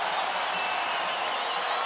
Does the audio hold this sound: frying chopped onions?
no